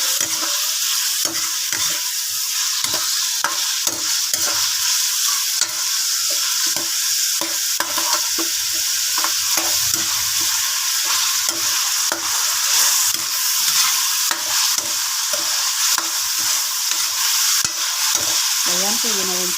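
Liver sizzles and fries in a pan for pork menudo, a steady bright crackle with frequent stirring scrapes and clacks of a utensil against the pan throughout, with no talking.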